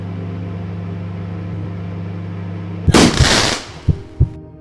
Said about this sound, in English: The microwave exploded.